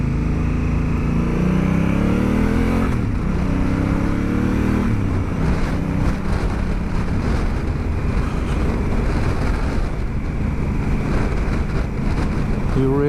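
A Honda Africa Twin motorcycle running through its stock exhaust can, a loud, steady engine drone with rising and falling revs and wind buffeting over the microphone while on the move.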